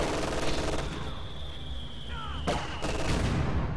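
Soviet mortars fire in a strategy video game, distant thuds and gunfire bursts rolling in the background alongside a commentator's voice.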